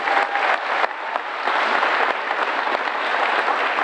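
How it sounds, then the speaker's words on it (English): Steady applause from a crowd at a memorial celebration of life, dense clapping that holds at an even level throughout with no voices on top. "You can clap that for sure."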